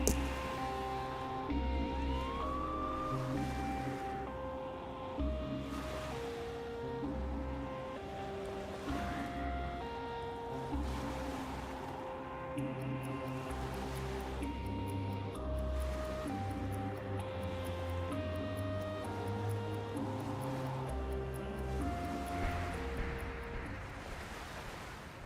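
Waves lapping at the water's edge in Schedule 1: a continuous soft wash of surf with gentle swells and light wind, fairly quiet, with no talking.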